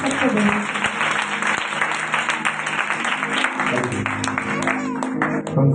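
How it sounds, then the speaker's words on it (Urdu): A church congregation gives a round of applause after a sermon. The clapping is dense and lively and holds steady across the whole stretch, with some voices mixed in under it. "ایک بار پھر بھرپور تالیاں بجائیں گے آج کے واقعی کلام کے لیے"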